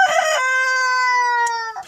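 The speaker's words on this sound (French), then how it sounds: "Merci le coq." A rooster crows once, loud and close, a single long drawn-out call with a short clucking burst at its start, heard alone on a farm where a hen is about to brood.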